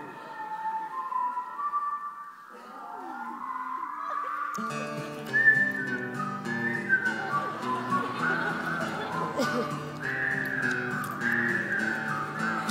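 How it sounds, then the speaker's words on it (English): Someone whistles a short melody, and then more whistlers join in, carrying a lively tune together at moderate volume. "The greatest whistling songs in American history."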